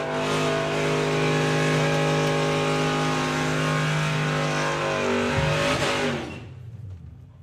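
Drag racing cars finishing their runs at a sportsman nationals event, a loud sustained engine roar that holds steady, then drops in pitch and fades out as the cars pass into the distance.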